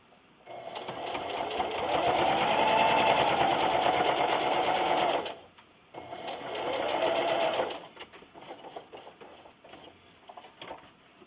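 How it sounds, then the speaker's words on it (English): A sewing machine stitches a scrappy patch bathmat in two sustained whirring runs with a brief pause between them, followed by quieter intermittent stitching and handling. "Needle down, spin, and just keep sewing."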